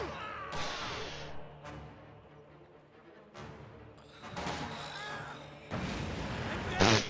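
In a strategy video game, an Oster sniper sets off a mine. Sharp blasts and crashes are followed by a heavy burst near the end, with a voice speaking briefly between the impacts.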